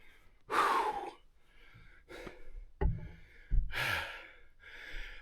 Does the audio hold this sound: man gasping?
yes